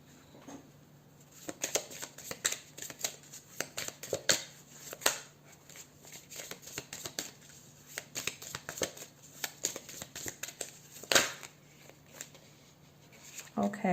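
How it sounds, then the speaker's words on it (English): Tarot cards being shuffled by hand, a run of soft riffling flicks and papery slaps in an irregular rhythm, close and fairly quiet, with a steady low hum underneath and a voice talking at times. "So let's shuffle some more."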